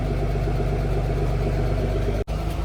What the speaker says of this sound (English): the exhaust always sounds really good on these twin turbos